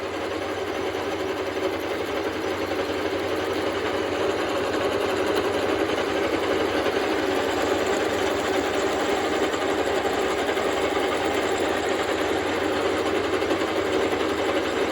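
Milling machine table feeding steadily while machining a K-750 motorcycle cylinder, cutting about a millimetre per pass to improve lubrication; a continuous, even mechanical whir with a faint rhythmic patter, close and unbroken throughout.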